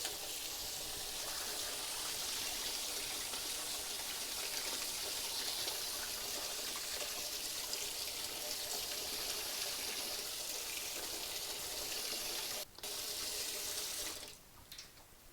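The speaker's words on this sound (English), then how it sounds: "So I will wash this several times." Minari, Korean water parsley, being rinsed under a running kitchen tap, with a steady broadband gush of water filling and splashing in a sink, continuous and close with no talking, ending in a brief break and shifting splash.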